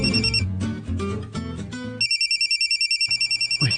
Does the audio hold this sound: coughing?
no